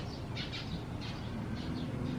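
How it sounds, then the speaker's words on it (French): Birds chirp outside a hotel balcony in the Thai countryside near a lake, short high tweets repeating in small bursts, fairly faint against a steady outdoor background hum. "Vous entendez les oiseaux?"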